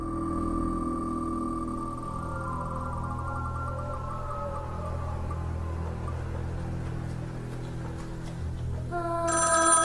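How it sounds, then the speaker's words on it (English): A telephone rings in a Ghostface-themed game, with a warbling electronic ring at the start and a louder burst of ringing at the end over a low steady background hum. "Stephanie Thompson answers the phone."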